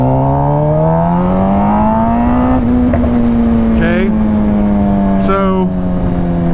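A 2011 Suzuki GSX-R 750 sport motorcycle pulling hard in second gear at part throttle, its engine whine rising steadily, then easing off as the throttle closes, loud and near with wind buffeting and brief rider talk.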